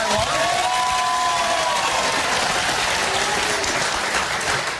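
Studio audience applause on a daytime talk show, a dense, sustained burst of many hands clapping with some cheering mixed in, loud and steady throughout.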